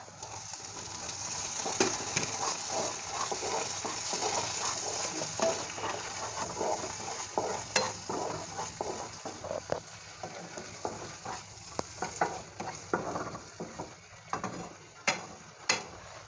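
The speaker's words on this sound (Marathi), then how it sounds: "अजून आपण थोड्या वेळासाठी तेल सुटेपर्यंत आपण मसाला शिजवून घेऊया" Masala cooking in oil for a paneer curry, a faint steady sizzle with light ticks and occasional clinks of a utensil against the pan, close by and without speech.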